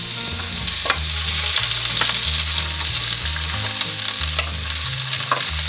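Onions and peppers sautéing in hot olive oil, giving a loud continuous sizzle with frequent spoon and pan scrapes layered over it.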